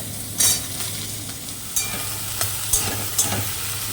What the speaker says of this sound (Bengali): এবার পেঁয়াজ দিয়ে আলু বেগুনটা একটুখানি ভাজা হতে থাক